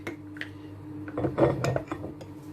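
Cocoa powder being stirred into melted cocoa butter for sugar-free homemade chocolate, with a utensil scraping and clinking against the bowl in a steady, close, moderately loud run of strokes and no voices.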